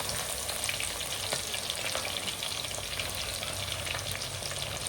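Chopped onions fry in hot oil with mustard and fenugreek seeds, giving a dense, steady sizzle that stays loud and unbroken throughout, with faint crackles on top.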